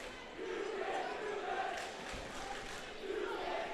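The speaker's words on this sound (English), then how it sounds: "The student body cheering section here letting Taylor know that that's not allowed" Student section at a high school boys basketball game chants and cheers together in a sustained, rhythmic crowd roar filling a gym, steady and moderately distant.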